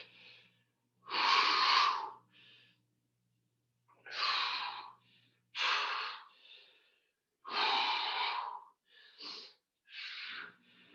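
Sharp, forceful exhales from people doing a boot camp punching workout come in short bursts, several breaths spaced irregularly, close and breathy with brief pauses between.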